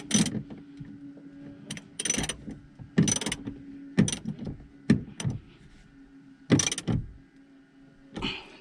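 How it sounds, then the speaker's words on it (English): A ratchet tightens car seat bolts in an Ek3 with repeated loud clicking bursts and metallic ratcheting, near and rhythmic, with brief pauses between pulls. "Tighten up with the ratchet again."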